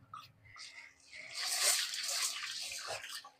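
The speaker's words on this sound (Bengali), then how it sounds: "ডালটা ধুয়ে নিই।" Red masoor lentils are rinsed in water for a bottle gourd dal, with a rushing, sloshing splash that swells and lingers close by.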